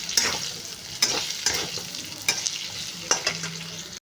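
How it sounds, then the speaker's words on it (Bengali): A soybean and potato dish with cumin powder and Kashmiri red chilli sizzles loudly in a pan while being stirred, with repeated scraping strokes of the spatula at an uneven rhythm over the frying. "আমি এটাকে ভালো করে নাড়াচাড়া করব"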